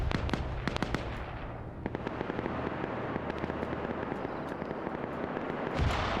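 Heavy machine gun fire in a multiplayer military video game match, a dense crackle of rapid shots and distant bursts that run steadily throughout, with sharper reports now and then and no talking.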